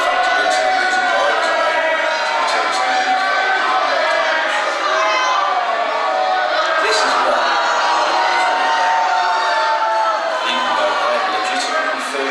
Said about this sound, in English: large parts of the crowd in Wolverhampton had a hugely negative reaction to that video